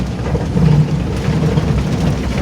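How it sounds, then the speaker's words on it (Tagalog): Heavy rain pours steadily as a dense, even wash of noise with a low rumble beneath, constant and close throughout with no voices. "Lakas ng ulan guys."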